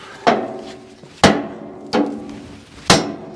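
A sledgehammer strikes metal at a fabrication shop working on damaged bearings and cranes, landing four loud, ringing blows about a second apart, each decaying before the next.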